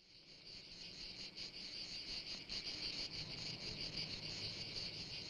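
Cicadas drone in a dense, steady, shrill buzz with a faint pulsing texture, holding at an even level without pauses, from the soundtrack of Pasolini's 1967 film Oedipus Rex.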